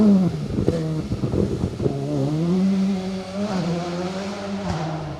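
A Volkswagen Polo rally car on a forest special stage at the Greystoke Stages, its engine note rising and falling as it passes, loud and close, with gear changes and a fading drone after.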